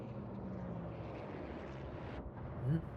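A distant aircraft engine drones faintly in a World of Warships naval battle, steady and low with a brief swell near the end, under quiet game ambience.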